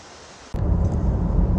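A waterfall near a hiking trail comes in suddenly as a loud, steady rushing roar after a half-second of quieter background, continuing unbroken to the end.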